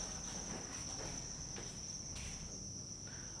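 Crickets in breeding boxes keep up a continuous, high-pitched shrill trill, clear and fairly close, with faint shuffling underneath.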